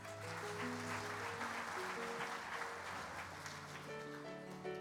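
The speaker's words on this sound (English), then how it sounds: "Let's give all the chapters in the Bronze Division a round of applause." Applause for FFA chapters at the Kansas FFA Convention, a broad wash of crowd clapping in a large hall, steady and slightly distant with faint tonal background sound.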